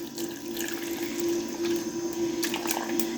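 One cup of boiled milk is poured into a mixture for carrot paste in a ras malai recipe, making a steady close liquid pour that runs continuously without a break, with no talking.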